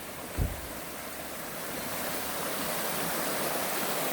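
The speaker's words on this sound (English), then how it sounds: "can you hear that creek?" Steady broadband rush of a flowing creek, continuous and fairly close, with a brief low thump near the start.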